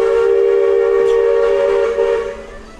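A steam train whistle at Magic Kingdom, Disney World, blows one loud, sustained, steady tone near by before fading out at the end.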